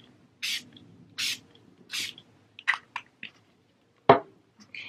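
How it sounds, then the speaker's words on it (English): Catrice Dewy Glow setting spray misted onto a face, three short close hissing spritzes followed by a few soft clicks and small rustles, with no talking. "the Catrice Dewy Glow Setting Spray in front of your face"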